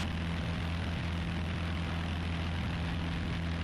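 Piper Warrior single-engine propeller airplane climbing out after takeoff, its engine a steady, loud, continuous drone with a strong low hum throughout, heard from inside the cabin with no talk.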